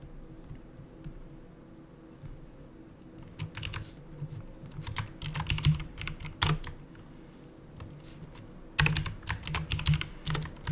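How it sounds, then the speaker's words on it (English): Rapid keyboard typing, close and clattery, in uneven bursts with a few louder key strikes, over a low steady hum and no talking. "this keyboard is very annoying"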